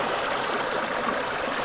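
Small waterfall spilling into a stream at a gold-prospecting spot, a steady close rush of flowing water filling the whole moment with no voices.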